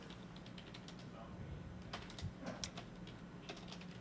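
Typing on a computer keyboard, scattered soft key clicks at moderate level over a steady background hiss, with no clear rhythm.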